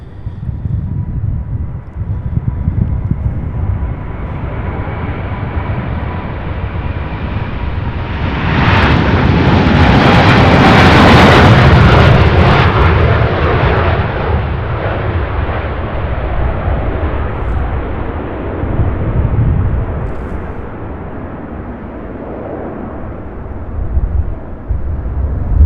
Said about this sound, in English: What a beautiful takeoff.